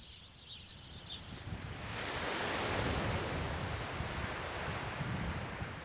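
Ocean waves wash onto a beach, a soft surf rush swelling and lingering, with some wind noise on the microphone and no voices.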